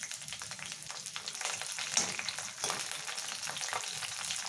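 Green chilies fry in oil in a pan for an ivy gourd stir-fry, giving a continuous soft crackling sizzle with light stirring scrapes, close but fairly quiet, with no one talking.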